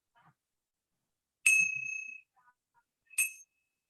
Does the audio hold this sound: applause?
no